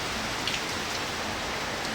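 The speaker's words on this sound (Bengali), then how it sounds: "আচ্ছা বৃষ্টি তো নামছে সেই রকম বৃষ্টি হয়েছে" Heavy rain pours down steadily, a dense and even hiss of drops hitting surfaces without pause.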